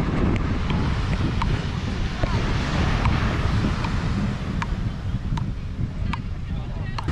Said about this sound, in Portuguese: a onda tão forte aí, tá todo mundo se assustando pra entrar